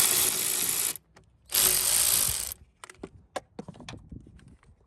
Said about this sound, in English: Might have to loosen up that bolt there.